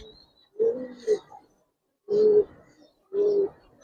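Giribaz pigeons at a pigeon farm coo in three distinct, soft throaty bursts spaced about a second apart, close and clear against quiet surroundings.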